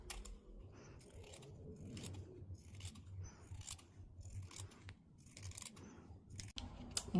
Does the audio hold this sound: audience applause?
no